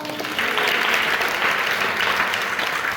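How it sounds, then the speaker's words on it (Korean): A church congregation bursts into steady, dense applause during a testimony service, a full room of clapping sustained for a few seconds without speech. "박수."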